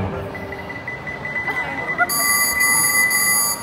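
A toy naughty-or-nice detector device at a school Christmas event beeps: a steady high electronic tone with harmonics sounding for about a second and a half, loud and close, after some faint background chatter.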